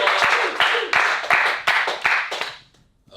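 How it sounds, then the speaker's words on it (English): Brief bursts of audience clapping at a comedy game show, a few sharp rhythmic waves of hands that die away into near silence by the end. "Let's get some clapping."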